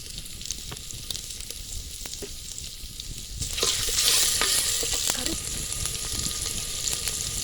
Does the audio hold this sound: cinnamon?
yes